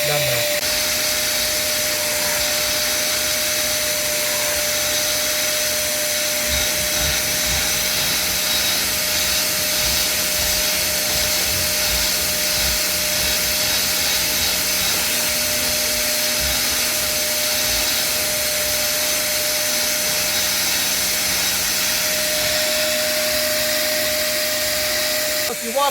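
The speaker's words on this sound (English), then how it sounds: "it will vacuum up the dirty water" A UWANT portable carpet cleaner sucks dirty water from carpet with a loud, steady whining suction roar that runs unbroken and stays up close throughout.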